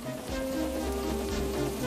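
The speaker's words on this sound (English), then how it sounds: "Wind and rain buffeted Edward." Steady rain and wind batter a small engine on its line, a dense hiss of falling water with a low rumble underneath, continuous and fairly loud throughout.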